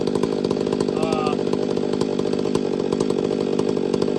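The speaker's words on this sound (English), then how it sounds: "The saw feels considerably stronger. It seems to rev a little higher." Husqvarna 500i chainsaw running on 90 octane fuel with Motomilk oil, its engine revving high and steady in a loud, buzzing drone close by throughout.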